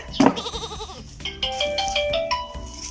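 Mobile phone ringing with a bright melodic ringtone, close and clear, after a brief bleat-like burst at the start.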